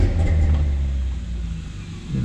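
A 1970 Shelby GT350 convertible engine turns over and catches, giving a loud, steady low rumble close by that holds for a couple of seconds with a slight swell near the end.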